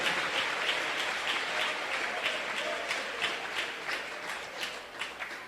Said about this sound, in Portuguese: você sabe que eu vou pedir para melhorar essas palmas